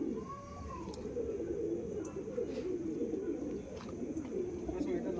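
Andhra Madrasi pigeons coo softly in a loft, their low murmuring steady and fairly faint, with a few sharp clicks and rustles scattered through.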